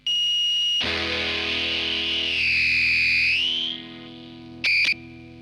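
A heavily distorted, buzzing electronic tone from a guitar distortion pedal in a feedback looper circuit holds a shrill whine, shifts pitch midway, cuts off, then gives one brief burst.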